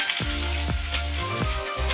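Hilsa fish fries in hot oil in a pan with a steady, close, crackling sizzle, broken by a few rhythmic scraping strokes as the pieces are stirred or turned.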